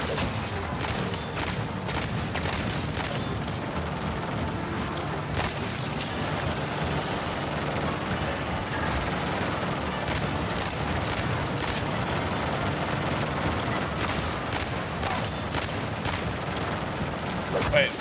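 Rapid turret gunfire in MW3 Zombies, dense overlapping bursts and booms pounding almost nonstop at close range, loud and continuous throughout.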